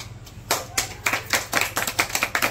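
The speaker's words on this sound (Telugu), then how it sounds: "మీరందరూ గట్టిగా చప్పట్లు కొట్టాలి ఆవిడ కోసం." A small group claps in loose rhythm at a blanket distribution gathering, a run of distinct, fairly close hand claps over two seconds, moderately loud and unaccompanied by talk.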